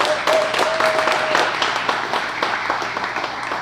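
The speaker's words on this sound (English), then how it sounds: "So a big round of applause for our sponsors." Audience applause rising at a tenth-anniversary celebration gathering, a steady crowd of clapping hands sustained for several seconds with faint voices mixed in.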